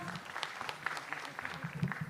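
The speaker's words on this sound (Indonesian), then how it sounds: "Tepuk tangan sekali lagi untuk Dewangga." Crowd applause for a stand-up comedian at a comedy competition show, brief clapping with a host's voice running over it.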